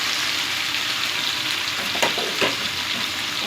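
Prawn heads fry in hot spiced oil for a prawn-head bhuna, a steady close sizzle with a couple of brief stirring scrapes and no talking.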